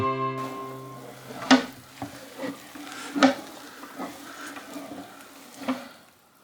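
Ground meat being mixed for Polish kabanosy sausages, heard as a close, wet, squelching churn with a few sharper slaps and knocks spaced through it and a brief hum at the start.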